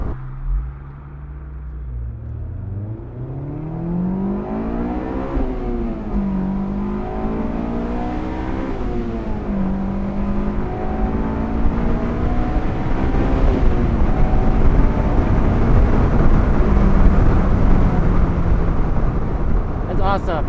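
A 2000s Honda S2000 AP2 roadster's engine pulls through its five-speed gearbox, with rising revs that drop at each shift and a steady build in loudness, heard from inside the cabin with wind noise and people talking over it.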